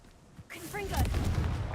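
Confringo blasting spell in Hogwarts Legacy: a brief whistling, rising effect, then a loud close boom with lingering low rumble.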